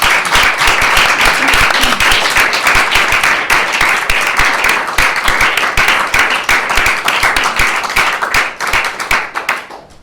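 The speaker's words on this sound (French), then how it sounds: "de l'applaudir de tout votre cœur pour la lutte qu'il mène" A close, loud audience in Brussels applauds Ramzy Baroud with vigorous, sustained clapping, sharp hand claps prominent throughout before tapering off at the very end.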